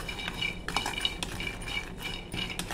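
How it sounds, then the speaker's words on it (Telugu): Jamun seeds roasting in a pan are stirred with a metal utensil, giving steady scraping and clinking against the pan, close and continuous over a soft sizzle. "నేరేడుకాయలు దీంట్లో వేసుకోవాలి, వేయించుకోవాలండి"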